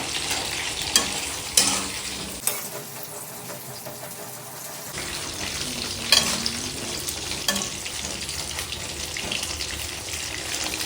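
Small eggplants frying in oil for a Tamil meatless fish-style curry, heard as a continuous sizzle broken by stirring scrapes and a few sharp clinks of a utensil against the pan, with a brief quieter stretch partway through.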